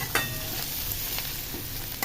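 Onions sizzling in a pan as a spoon stirs them, with steady frying hiss and a few sharp scrapes close by, with no voices.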